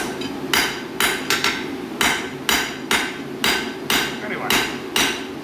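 Heavy steel bar being upset at a blacksmith's forge, struck about eleven times in a steady rhythm of loud, sharp metallic impacts, each ringing briefly over a constant background roar.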